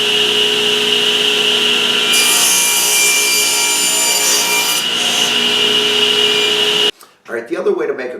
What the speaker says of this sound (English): So let's go ahead and make a cross cut here.